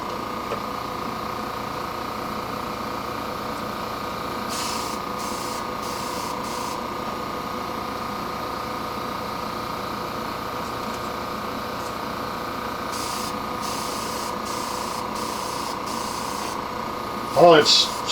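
A paint spray gun sputtering lightly inside a spray booth, giving a steady, even hiss with a constant mechanical hum underneath and a brief clatter near the end.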